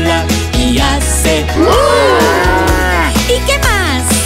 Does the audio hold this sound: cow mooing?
yes